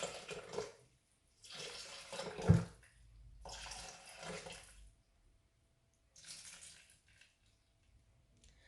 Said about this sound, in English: So I've made my own coconut milk here, so I'm just going to add that.